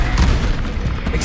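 Confringo blasting spell explosion in Hogwarts Legacy, a loud, dense booming blast with crackling bursts rolling through about a second, close and heavy throughout.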